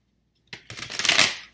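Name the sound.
shuffling tarot cards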